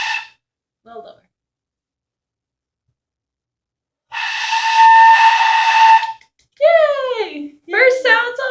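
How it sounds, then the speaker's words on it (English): A beginner's first breathy notes on a flute come as a sustained airy tone of about two seconds, followed by short voices speaking nearby. "First sounds on flute."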